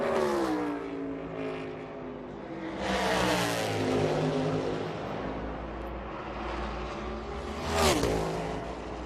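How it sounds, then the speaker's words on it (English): A NASCAR Cup Series race car on a qualifying lap at the 2022 championship weekend: a loud engine roars and revs through rising and falling pitch, then swells sharply as it blasts close past before fading. "Would not surprise me one bit to see Ryan Blaney lay a blistering lap right here"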